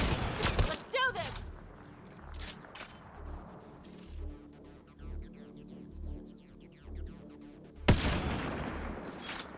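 A shootout in Mass Effect Andromeda on PC, with Sentinel-class Ryder: several sharp, distant gun reports spread out over a quiet, low rhythmic background hum, with a final loud shot near the end.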